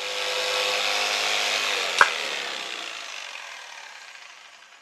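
A Mafell P1cc jigsaw cutting wood gives a steady, bright, buzzing whine, up close. A sharp click comes partway through, then the motor winds down and fades out.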